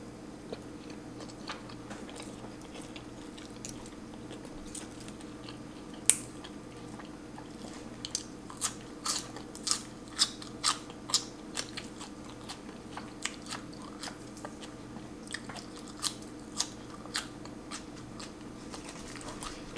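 Close, moist chewing and crunchy bites of steamed fish roe with herbs wrapped and eaten with hot sticky rice, a steady run of soft smacks and crisp clicks that grows busier partway through, with no talking.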